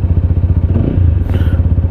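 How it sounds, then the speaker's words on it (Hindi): A Bajaj Pulsar NS 200 or TVS Apache RTR 200 BS6 motorcycle idles close by with a deep, steady thumping exhaust pulse and a slight rev swell near the end, with no talk. "एग्जॉस्ट नोट मैन, ज़बरदस्त एग्जॉस्ट नोट"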